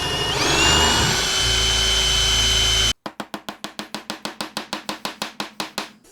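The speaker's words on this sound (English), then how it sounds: "You drill it and then chisel it." A cheap square hole chisel drill bit runs with a loud whirring motor, then cuts into wood in a fast series of sharp, rhythmic chopping strikes, about twenty evenly spaced bursts.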